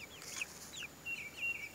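A rooster on a small homestead gives a couple of thin, high crowing calls close to the microphone, with a steady faint tone in the background and no talk.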